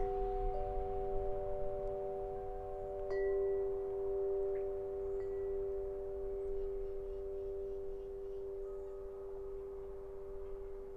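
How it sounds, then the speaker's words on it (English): A wind chime rings outdoors with sustained, overlapping metallic tones that hang steadily through the whole stretch, fairly close, over a soft bed of wind noise with no talking. "that wind chime's happy"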